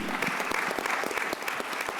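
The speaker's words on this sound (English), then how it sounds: "Another cheer for Deborah and the union." An audience at a university panel event gives brief, dense applause with scattered cheering, a full clatter of many hands close to the microphone.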